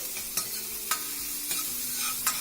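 Green chilies spluttering in hot mustard oil for a Kumaoni chickpea curry, a soft steady sizzle broken by a few sharp crackling pops and spoon knocks against the pan, close and without voices.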